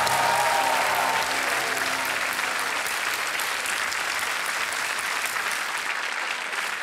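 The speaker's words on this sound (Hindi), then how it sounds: "जोरदार तालियां बज जाए डॉक्टर आशु सेठी के लिए" A game-show studio audience bursts into loud, continuous applause for a contestant, a dense wall of clapping with a brief musical tone fading underneath at the start.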